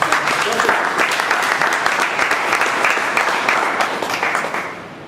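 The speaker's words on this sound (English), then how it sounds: "A big round of applause for George." Audience applause at a Toastmasters meeting, a steady dense round of clapping that holds loud for about four seconds, then tapers off at the end.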